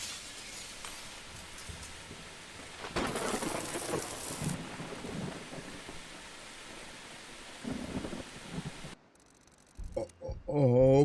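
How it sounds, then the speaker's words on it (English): A thunderstorm rages in the Don't Escape 4 video game: steady rain with a loud rumbling thunder roll, then a sudden cut to near quiet and some faint tonal game sounds near the end. "There was a storm, a thunderstorm."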